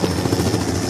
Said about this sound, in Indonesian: Tak berserang lama helikopter itu datang.